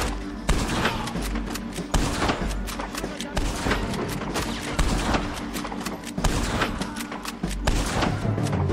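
Dense gunfire rattles through a Red Dead Redemption 2 shootout, rapid overlapping shots and booming blasts repeating loudly and continuously, with voices talking underneath.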